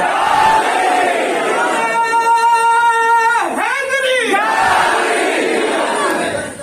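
A large crowd at a Muharram religious gathering roars a chant in unison, voices swelling together in a loud sustained shout, with a brief dip before rising again.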